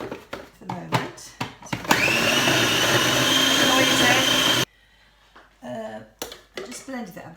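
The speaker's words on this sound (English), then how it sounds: "I just blended it up" A blender whirs loudly and steadily for a few seconds as it grinds whole blanched almonds for an Italian lemon almond tart, then cuts off abruptly, with kitchen clatter and a person talking around it.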